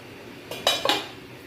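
A metal lid lifts off a pot of dal cooking in a new kadai, giving a few quick clinks and clanks in close succession, loud and near, with no talk.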